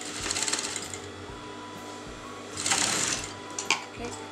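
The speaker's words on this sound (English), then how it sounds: "for this you're going to use a basting stitch." A sewing machine hums steadily at low volume while sewing a basting stitch on a canvas neckline for a kameez, with a brief louder surge and a few clicks near the end, and no one talking.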